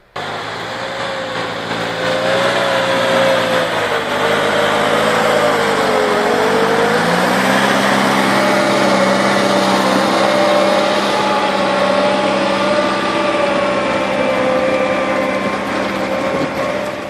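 A forestry forwarder used to haul logs for a sawmill runs its engine in a steady, loud drone with a shifting whine that rises and falls, heard close and continuously with no talking.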